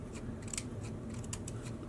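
Scissors snip slits down the side of denim fabric in several quick, close cuts with a crisp, rhythmic shearing sound.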